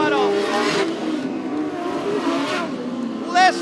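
Modified sedan race cars coming through the final turns of a dirt-oval title race at Cairns Speedway, with engines roaring and revving at a distance under loud, continuous race commentary.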